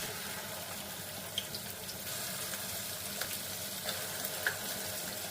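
Chicken wings for honey lemon wings fry in hot oil, giving a constant soft sizzling hiss with scattered small pops and crackles, moderately quiet and close, with no talking.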